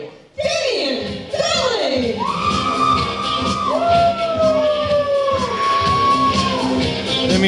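An independent wrestling crowd cheering for Damien Darling, a sparse group of whoops and drawn-out shouts and yells rising and falling in a small venue, layered over ongoing commentary.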